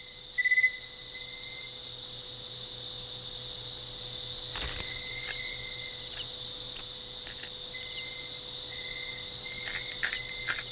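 Crickets chirp steadily in a quiet outdoor setting, a continuous high buzzing trill with a few brief sharper calls standing out against the faint background.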